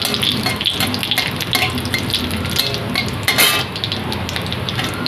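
Dried red chilies and cumin sizzle in hot oil in a pan while a village breakfast is cooked, a steady crackling fry broken by a few scrapes and clinks of stirring.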